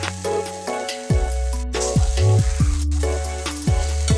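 Cashew paste sautéing in a pan for egg korma, a steady close sizzle with faint stirring scrapes, while background music with clear tonal notes plays over it throughout.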